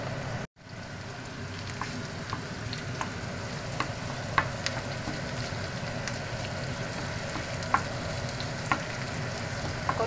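Pork adobo sizzles and fries in a pan with a steady crackling hiss and scattered pops, close by and moderately quiet, no voices.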